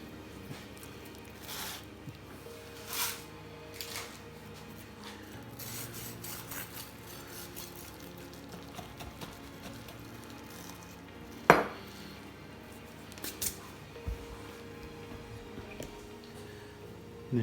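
A knife cuts open mac n cheese balls stuffed with caramelised red onion, producing soft scraping and occasional light clinks of metal on a plate, with one sharper tick standing out.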